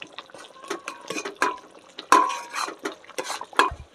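Doi (yogurt) being whisked to a smooth paste in a bowl for doi katla. A spoon scrapes and clinks against the bowl in a quick, irregular series of close, wet strokes.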